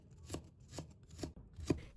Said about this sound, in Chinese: 准备1块去皮的生姜，把它切成片